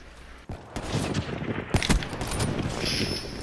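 Video game gunfire in a quickscope sniper battle: a sharp shot near the start followed by a cluster of loud cracking reports and rattling echoes, with reload clicks and metallic clatter toward the end.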